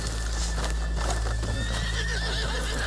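Horses in a Red Dead Redemption 2 video game scene nickering and neighing close by, with soft clip-clop hoofsteps and a steady ambient hum underneath, no speech.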